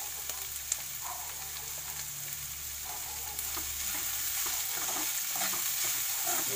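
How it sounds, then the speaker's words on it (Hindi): Noodles and sauce for American chopsuey fry in a pan on a high flame, making a steady, close hiss and sizzle with soft stirring scrapes throughout. "ये थोड़ा सा फ्राई कर लीजिए।"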